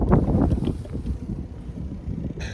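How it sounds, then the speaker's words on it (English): Gusty wind buffets the microphone with low rumbling bursts, rising and falling unevenly throughout. "it's a little windy today"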